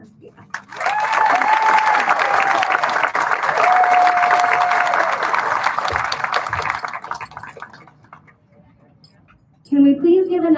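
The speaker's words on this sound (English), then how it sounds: "Can we please give another round of applause to Veronica Garcia, our Spartan principal." An audience applauds at a school commencement ceremony, a dense, loud burst of clapping with a few cheers that slowly fades away, and a voice follows near the end.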